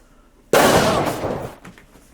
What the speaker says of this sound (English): Cue the explosions. The explosions. Boom.